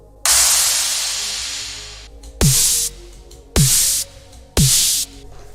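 Pryda-style electronic snare built from white noise and drenched in muddy reverb: a long hissing wash, then three sharp, loud snare hits at an even pulse, each with a brief pitched thump and a reverb tail.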